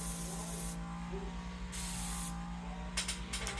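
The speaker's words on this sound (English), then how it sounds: "I like to run a little isopropyl through my gun." Isopropyl alcohol sprayed through an airbrush gun, giving short bursts of bright hiss, three or four quick blasts over a faint mechanical clicking background, all fairly quiet.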